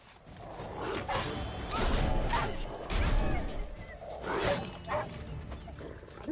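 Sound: dogs barking in the video game The Witcher 3, Blood and Wine DLC

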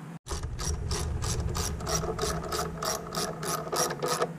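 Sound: tightening down screws on a Jeep throttle body

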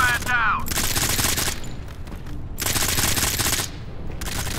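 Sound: gunfire in the video game Modern Combat 5

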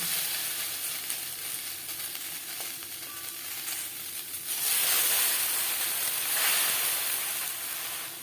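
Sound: chopped taro leaves steaming in a wok

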